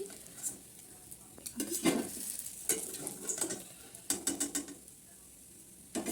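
Fish frying in a pan for a village-style mustard fish curry, a low steady sizzle with irregular scrapes and clinks of a utensil against the pan, close by and without speech.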